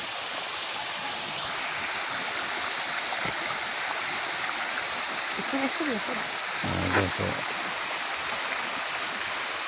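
Mountain spring water pours steadily into a drinking water tank, a constant hissing rush with faint splashing throughout, while a person talks briefly over it.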